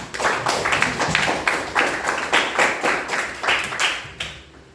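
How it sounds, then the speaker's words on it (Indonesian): A classroom group claps in short, uneven bursts, several rounds of close, brisk hand claps with slight pauses between them, for a student after his answer. "tepuk tangan buat Alpani"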